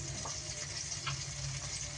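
Tomatoes fry in a pan with a steady, soft sizzle and crackle throughout, and a low hum underneath.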